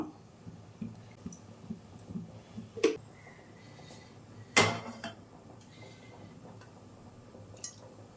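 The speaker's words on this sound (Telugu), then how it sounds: "ఆ స్టీల్ కళాయి తీసి ఈ పెనం అయితే పెట్టుకుంటున్నాను" A steel kadai lifted off a home stove and a flat pan set down in its place, giving sharp metallic clanks and knocks among small scattered clicks, close and fairly quiet.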